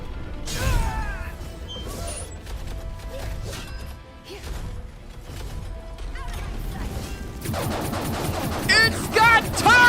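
Turrets on a flying weapon platform fire in Code Vein II, scattered mechanical bangs and impacts building to a dense, loud final burst, with game effects and occasional voice over the racket.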